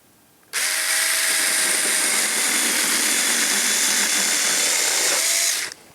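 A small, cheap mini chainsaw whines loudly and steadily as it cuts freehand through a 1x2 board for about five seconds, then winds down and stops.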